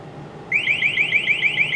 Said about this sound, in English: it's definitely much more bearable if I'm covering up that siren.